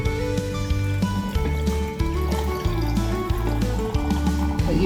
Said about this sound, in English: I'm going to pour it right over the top of the eggs